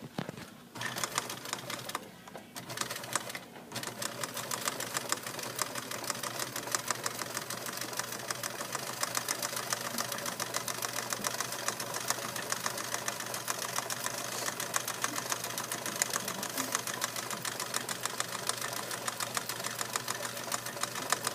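A sewing machine runs steadily for about twenty seconds, stitching a zigzag seam to join pillow squares, its rapid mechanical whir continuous and close after a brief stop-start at the beginning, with no talking.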